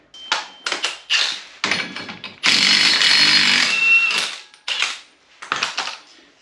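Wheel hub nut coming off a Polaris RZR front hub during a brake and wheel bearing job, heard as a series of close, bursty ratcheting and impact-tool rattles with one sustained loud whir in the middle, no talking.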